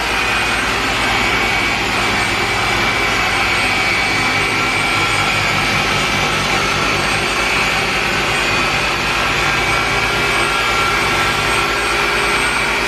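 A machine polisher with a foam interface pad runs steadily on black car paint with cutting compound, a loud continuous whirring drone that holds for the whole stretch with no talk over it.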